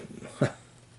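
A single short dog whimper or bark rises briefly near the middle of an otherwise quiet stretch of room tone, close and moderately loud, with no talk over it.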